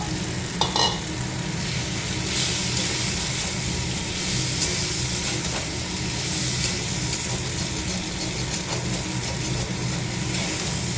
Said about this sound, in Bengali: এবার আলুটা দিয়ে আর একটুখানি ভেজে নেবো।